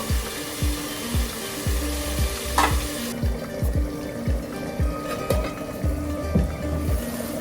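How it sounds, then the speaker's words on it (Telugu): Soya keema gravy sizzles and fries steadily in oil after two tablespoons of yogurt go in, with a regular rhythm of close spoon-scraping stirs against the pan and no talking. "ఇప్పుడు దీంట్లోకి 2 టేబుల్ స్పూన్ల పెరుగు వేస్తున్నాను."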